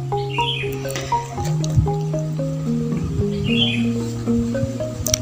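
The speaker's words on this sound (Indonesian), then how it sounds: "Ini burung anakan cendet saya." Young long-tailed shrike, about a month old, chirping repeatedly in quick, close, high-pitched calls over low background hum, with no one talking.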